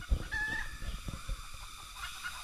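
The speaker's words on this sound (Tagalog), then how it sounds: "Yan po talagang ang wild chicken po." A wild chicken on a farm clucks a few times nearby, with soft, low calls over quiet outdoor background.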